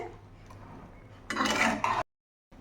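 A metal wok (kadai) set down on a home stove for a Bengali ridge gourd curry, a brief clattering metallic knock with rattle lasting under a second, then silence.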